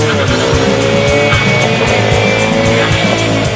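Zenos E10 R sports car with a 2.3-litre EcoBoost engine making 350 bhp, roaring loud and close with tires squealing and skidding under hard driving, the engine note rising and falling continuously.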